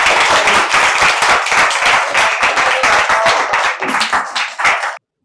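An audience claps for two speakers at a Gujarati literary event, a dense, close burst of applause that holds steady for several seconds, thins slightly, then stops abruptly.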